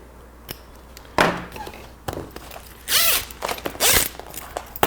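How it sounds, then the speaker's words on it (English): Zipper on a 38-foot Sea Ray boat's bimini top being pulled in several quick, loud rasping strokes close by, with short pauses and handling thumps between them. "So let's pull our zippers out"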